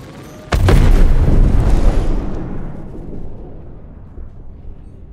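A destroyed 300i spaceship explodes in Star Citizen, a sudden loud boom that rumbles heavily for a couple of seconds and then fades into a long, decaying low roar.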